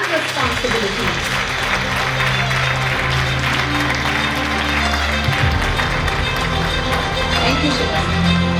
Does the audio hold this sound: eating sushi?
no